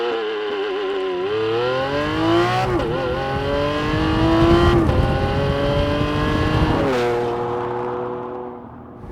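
Lamborghini Countach engine pulling away hard, loud and close, revs rising through several gears with a brief dip at each shift, no voices over it.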